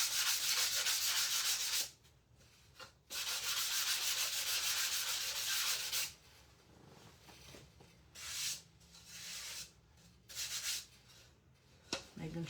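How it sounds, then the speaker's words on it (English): Quick hand sanding of a painted wooden sign, a steady rasping rub in sustained bursts with short pauses between strokes, fairly close and alone without talk. "let me sand that, just a quick sand"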